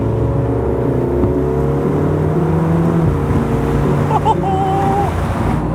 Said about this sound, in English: And the exhaust note,